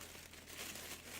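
The plastic refill bag of a diaper bin is tied and pulled down, giving a faint, continuous crinkling and rustling of thin plastic up close.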